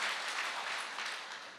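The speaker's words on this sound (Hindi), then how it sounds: "एक जोरदार तालियां होनी चाहिए इस प्रोडक्ट के लिए भी" An audience claps at a live Ayurvedic health awareness demonstration, a steady, fairly faint wash of applause lasting the whole moment with no voices over it.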